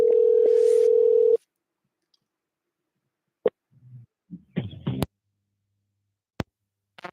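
Steady telephone dial tone sounding alone for over a second after a caller hangs up, then cutting off abruptly, followed by faint clicks and scattered brief noises.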